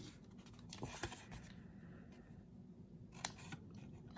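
Scissors cutting paper craft pieces for a summer-themed pumpkin card kit, faint close snips scattered over a quiet room, one crisper cut standing out near the end.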